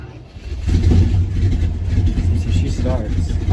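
A boat engine on a 1971 Kayot with a holed muffler fires up and settles into a rough, throaty idle without throttle, running steadily and loudly while people talk over it.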